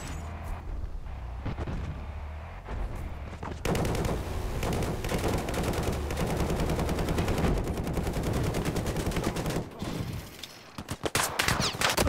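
Gunfire in the Battlefield Hardline multiplayer shooter, with a quieter stretch giving way to sustained loud bursts and overlapping shots, dense and continuous, with a few sharp blasts near the end.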